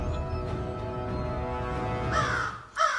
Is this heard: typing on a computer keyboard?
no